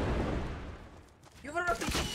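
Video game gunfire: a noisy burst of shots that fades, then a voice talks briefly near the end with shots under it.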